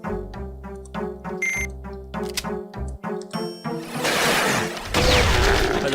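A shrill, repeating alarm-like ringing sounds in the video game Brutal Doom 2, pulsing tones that give way to loud crashing, roaring game noise toward the end.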